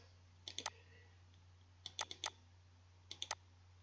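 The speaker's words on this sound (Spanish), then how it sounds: "lo que hago es clic en la capa correspondiente" A computer mouse clicks while picking a layer in AutoCAD, giving three short bursts of two or three crisp, close clicks separated by quiet pauses over a low steady hum.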